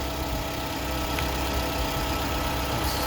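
A 2013 Toyota Camry engine idles steadily just after starting, a close, even mechanical hum with no change in pace and no talking.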